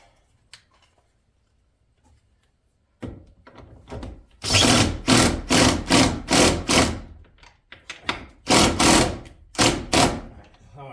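An impact driver backs a screw out during roof repair on a house flip, firing in rapid loud hammering bursts in two clusters after a quiet opening with light handling noises.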